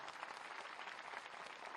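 Applause from an audience at a public ceremony honouring a deaf para-badminton gold medallist, steady dense clapping filling the whole stretch at a fairly low, even level with no voices.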